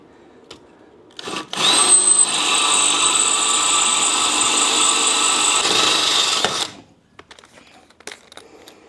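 A power drill running with a small bit, one continuous loud whine of about five seconds that starts abruptly and cuts off, with quiet before and after.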